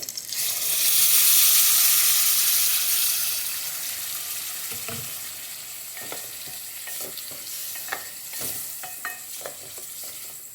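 Potatoes fry in a pan as a tomato and onion paste goes in: a loud hissing burst at first that settles into steady sizzling with scattered stirring scrapes and clinks.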